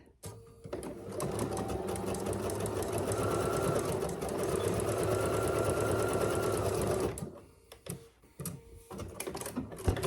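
Sewing machine stitching a tote bag, a close, continuous rapid mechanical whir running for several seconds, then stopping, followed by light handling clicks.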